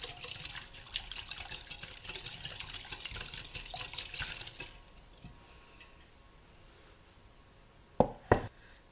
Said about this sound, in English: I'm going to blend this all together with a whisk.